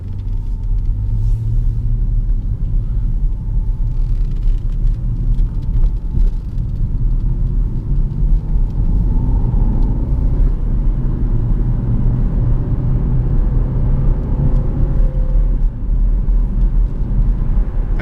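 A Jaguar XF with a 5.0-litre V8 drives in race mode, its engine giving a loud, deep, steady rumble that swells and settles as it pulls along the road, with no talk over it.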